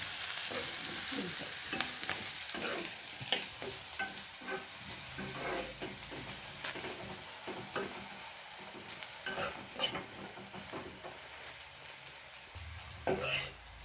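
Beans fry in a pan with a soft, steady sizzle, broken by repeated scraping, clattering stirs of a spoon at an irregular pace, close and fairly quiet throughout.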